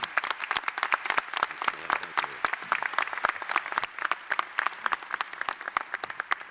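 A commencement audience applauds a speaker in a fairly subdued way, with sharp individual claps standing out in a steady rhythm that sounds thin and sparse rather than thunderous.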